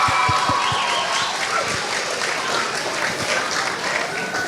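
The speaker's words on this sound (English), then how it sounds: "Can we get another big round of applause for our Group 1 kids?" At a summer camp finale, an indoor audience gives the children of one group a big round of applause, steady and full throughout, with scattered cheers and no speech.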